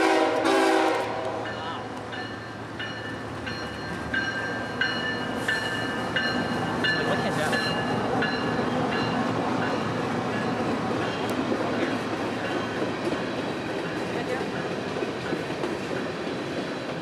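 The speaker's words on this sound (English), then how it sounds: "This is NS empty coal train number 733, coming back north for another load of coal" A Norfolk Southern empty coal freight train rolls past with a sustained rumble and rhythmic wheel clatter over the rails. A horn sounds near the start and faint higher squeals ring over the steady passing.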